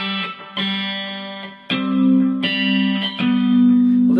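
Measure 12 of a song is played on guitar as a handful of bright plucked notes over a droning open-string tone, each attack ringing into the next, played close with no other sound.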